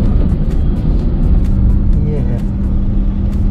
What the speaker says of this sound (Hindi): जैसा पहले था ट्रैफिक वैसा ही है